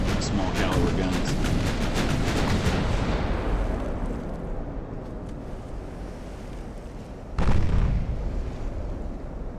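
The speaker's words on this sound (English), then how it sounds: "I want to see from above all these guns firing." Small caliber warship guns fire in rapid bursts in the naval game Ultimate Admiral: Dreadnoughts, loud sharp reports stacking into a rolling barrage, then easing to a sea-like rumble before one more heavy blast.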